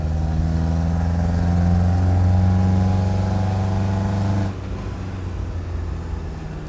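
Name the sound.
1989 Renault Espace engine accelerating at full throttle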